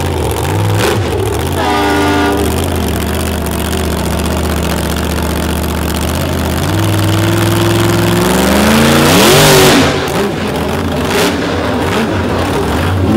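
A monster truck engine idles loudly at a monster truck show in Brooksville, then revs and climbs in pitch before settling back to a steady roar.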